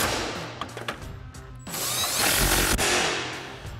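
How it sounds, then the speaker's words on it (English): An impact wrench with an 18 mm socket drives bolts on a stubby front bumper for a 2019-2021 Silverado 1500. A loud, close, rattling hammer-burst builds and holds for a couple of seconds after lighter ratcheting clicks. "Then we can tighten those down using our 18 millimeter socket on our impact."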